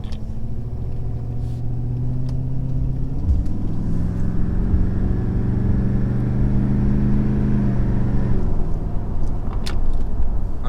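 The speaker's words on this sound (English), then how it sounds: "get on it a little bit so you guys can hear what it sounds like in the cab as you take off" A deep 6.7 Powerstroke diesel pickup engine with a straight race-pipe exhaust rumbles and climbs in pitch as the truck accelerates, heard from inside the cab, then eases off near the end.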